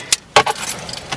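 Car keys jangle and click as the ignition is switched on in a Mazda 3, with two sharp metallic bursts followed by a soft rattle, close by.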